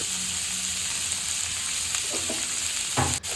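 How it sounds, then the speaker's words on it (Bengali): Bottle gourd peels stir-fry in a hot pan with a loud, continuous sizzle, and a few scraping stirs come through near the end. "এখানে লাল চোকলাগুলো দিয়ে আমি একটুখানি নাড়াচাড়া করে নেব"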